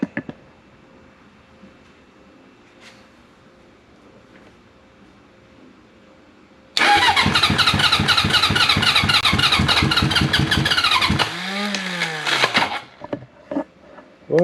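A 1980 Honda CB750 K motorcycle engine, started on choke, bursts into a loud, rough running roar after a quiet pause, holds for several seconds, then drops off with a falling whine and a few sputters.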